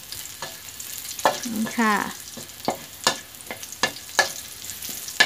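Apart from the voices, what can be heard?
stir-frying in a pan for a chaya and pork dish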